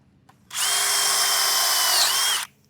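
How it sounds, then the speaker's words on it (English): A power drill whines at a steady, loud pitch as its bit bores through the first layer of metal edging, running about two seconds with a slight dip in tone near the end before stopping abruptly. "you want to wait until you feel the drill bit tap through"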